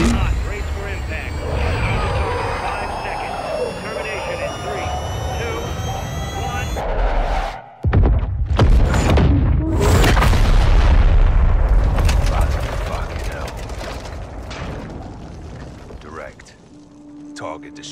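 Missile strike in the Modern Warfare 2 video game: a sharp, loud explosive boom bursts in after a brief dropout, then a long rumbling roar decays slowly over several seconds, following a stretch of engine-like mechanical drone.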